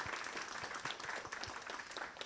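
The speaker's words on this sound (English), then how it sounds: "So perhaps we can first give our panelists a round of applause." Audience at a Hong Kong carbon market training panel claps for the panelists: a modest, somewhat sparse round of applause, fairly quiet, with individual claps standing out.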